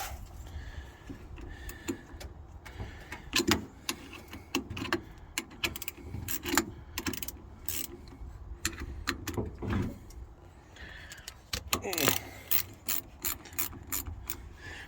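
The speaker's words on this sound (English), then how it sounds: "Never can go wrong with the ratchet wrench, though." Ratchet wrench clicking in repeated bursts while turning 9/16 bolts on a 1970 Chevelle, close and fairly loud, with pauses between runs of rapid clicks and some metallic clatter.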